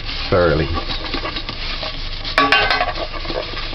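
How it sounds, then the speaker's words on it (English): A piece of butter is rubbed around a pan to grease it for sweet potato pudding, making close scraping and rubbing sounds with a light metallic clink. A brief voice-like sound is heard near the start. "Now you take a little piece of butter and you just grease the pan."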